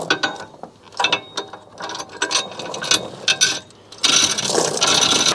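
Heavy-duty ratchet chain binder being cranked tight on a towing chain outdoors, giving bursts of clicking and clanking pawl ratchets in irregular runs, loud and close, ending in a sustained rattling stretch.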